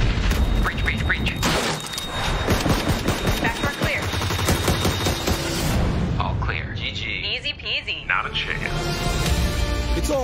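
PUBG squad combat, with a frag grenade explosion and heavy bursts of gunfire cracking and booming close by through a busy firefight, while voices talk over the action.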